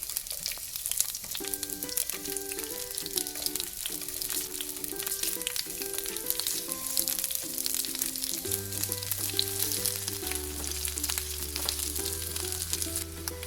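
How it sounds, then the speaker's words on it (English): Onions sautéing in oil in a frying pan, a steady close hiss of frying under melodic background music. "we saute the onions until they become translucent and fragrant"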